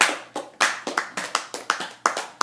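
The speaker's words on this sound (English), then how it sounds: "They just slow clapped for you." An audience slow clapping together, about a dozen crisp, hollow claps at a steady, unhurried pace, close and clear with no talk.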